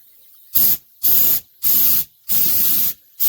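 Spray gun laying paint on F-150 truck rocker panels, four loud hissing bursts of roughly half a second each, close and steady, with a faint hum between passes.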